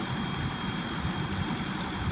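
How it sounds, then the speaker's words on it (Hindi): A tractor engine idling and running during early-morning driving practice, a steady low diesel rumble held close and continuous without speech. "देखते रहिए कैसे करते हैं हम लोग ट्रैक्टर को ब्रेक और आगे चलाना"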